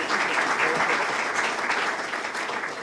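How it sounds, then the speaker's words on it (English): An audience at an alumni speaker event applauds a speaker with dense, sustained clapping that stays loud and even throughout. "Please give him a round of applause."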